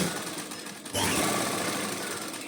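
Sewing machine stitching beaded lace along the edge of a dupatta, a steady close whirring run that starts abruptly about a second in and continues without talk.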